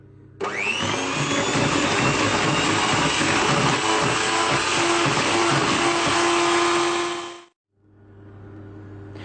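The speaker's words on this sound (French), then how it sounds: "je vais fouetter pour bien l'incorporer" An electric mixer whisks yogurt cake batter with vanilla yogurt, a loud steady motor whine starting abruptly and running about seven seconds before cutting off, then a quiet hum.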